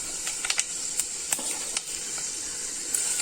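Fenugreek seeds and spices sizzling in hot oil while tempering a drumstick dal, a faint steady hiss with a few soft crackling pops.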